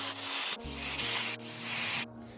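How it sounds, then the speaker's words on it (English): A power drill bores holes through plastic jar lids in three whining bursts with short pauses between them, loud and close, with the pitch rising and falling under load. "we've got our holes drilled in all of our lids"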